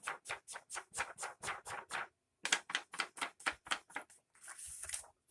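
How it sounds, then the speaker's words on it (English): Rapid series of soft dabbing taps from an ink dauber working along the edge of an old book page for a handmade journal, about twenty quick pats in two bursts, close and distinct, ending in a brief rustle. "First thing we do is hunt for our ink dauber. And we're going to ink on the side closest to the tape."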